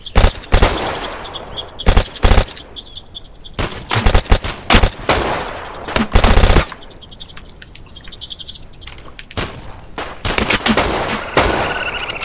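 Gunfire in the survival shooter Dead Side during a fight with scavs: repeated loud bursts and single rifle shots, some close and sharp, others more distant, spread across the clip with pauses between them.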